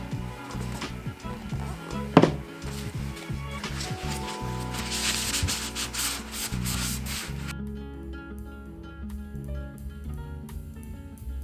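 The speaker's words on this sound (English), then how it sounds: "I'm going to finish this with some water-based wipe-on poly." Water-based wipe-on polyurethane being rubbed onto a wooden plant stand with a cloth, a close, steady scrubbing and rubbing sound that runs throughout in repeated strokes, with a sharp knock partway through.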